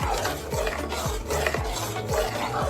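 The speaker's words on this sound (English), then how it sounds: "You just stir that in, and there you have it." A spoon stirring cheddar cheese into a pot of broccoli soup, a steady thick scraping swirl with regular low sweeps repeating about every half second, close and moderately loud.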